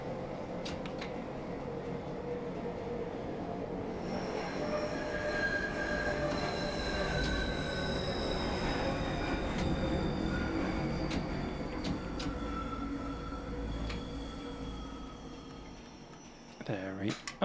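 A London Underground Bakerloo line train in Train Sim World 2 running along the track, with steady rumbling motor and wheel noise, drawn-out wheel squeal rising over the middle, then the train slowing toward the end.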